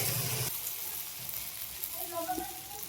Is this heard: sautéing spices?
yes